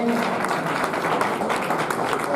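Applause from an audience at a Rajput girls' hostel function marking the birth anniversary of Colonel Bahadur Singh, the last ruler of Bundi; a continuous patter of clapping, fairly close, with some voices mixed in.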